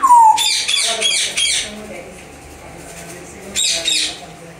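An African grey parrot gives a rapid run of sharp chirps and squawks close by, with a pause and then a second short burst of calls.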